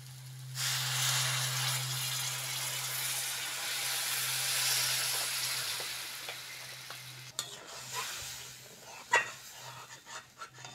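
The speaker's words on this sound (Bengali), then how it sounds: "এবার জল দিয়ে দেবো।" Water poured over fried spice paste of turmeric and chili powder for a South Indian fish curry erupts into a loud, close hiss that gradually dies down, followed by scattered stirring clatter over a low hum.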